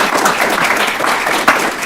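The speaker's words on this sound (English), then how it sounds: "would you guys give a nice round of applause to Mr." An audience at a school district citation ceremony claps for an honoree, a loud, continuous wash of many hands that holds steady for about two seconds, close and full.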